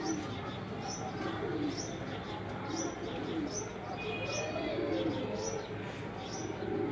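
Breeder pigeons coo in a loft, repeated soft rhythmic calls with faint chirps, heard under a man's speech.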